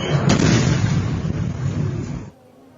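Missile attack explosion in Lviv during the Russia-Ukraine war: a sharp blast followed by a loud, sustained roar of rumbling noise that cuts off abruptly.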